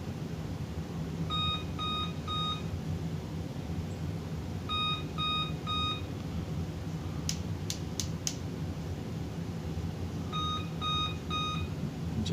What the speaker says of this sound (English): Just beeping and nothing showing.